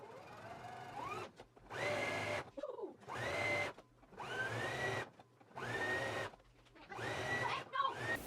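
A sewing machine runs in about six steady bursts, each a few seconds long with short pauses between, as it stitches a narrow hem along garment front openings.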